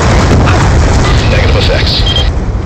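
A massive airstrike explosion in Black Ops 2 lands as one loud, sustained, rumbling roar that fills the whole moment without letting up.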